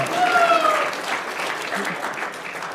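An awards-event audience claps for associate board members standing in the crowd, a full, steady round of applause with a voice and crowd murmur underneath.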